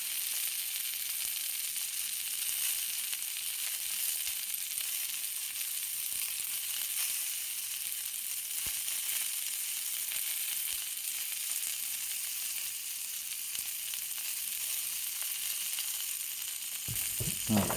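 Peppers slow-cook in a pan with a constant, gentle sizzle that holds steady throughout, ending with a brief knock.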